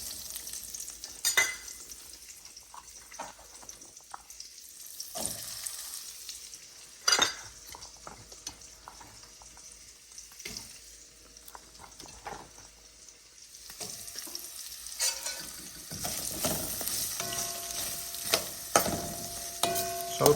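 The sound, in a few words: onion frying and being stirred in a pan for sambar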